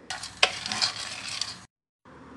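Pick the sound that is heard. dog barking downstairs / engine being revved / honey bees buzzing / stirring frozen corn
stirring frozen corn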